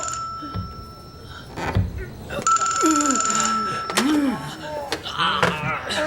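A telephone hidden inside a wall rings in repeated electronic trills in a warehouse during wartime fighting, while voices speak urgently and other noises clatter nearby.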